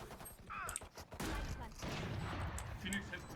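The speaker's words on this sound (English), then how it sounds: "Swarm grenade out" A Killjoy swarm grenade in Valorant fizzes and pops over a dense stretch of rapid gunfire, loud and busy throughout, with a voice talking faintly underneath.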